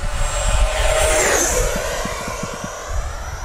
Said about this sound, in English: I'm gonna come by hot again, Steve, because that's what this plane does best